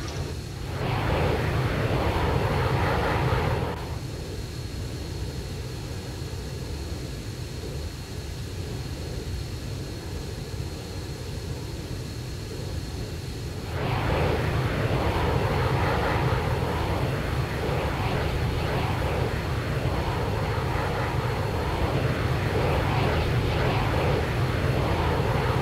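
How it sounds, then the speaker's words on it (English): The Hellcat helicopter in Arma 3 gives off a steady, dense rotor and engine roar. The sound dips noticeably for about ten seconds, then comes back just as strong and holds to the end. "What helicopter is this supposed to be then? The Hellcat."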